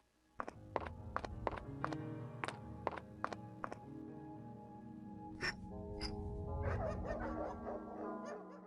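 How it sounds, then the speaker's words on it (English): Dogs barking over an intercom in the video game Mystery of the Druids: a rapid run of clipped, filtered barks followed by muffled, noisy intercom sound, fairly faint. "Wait, are those dogs on the intercom?"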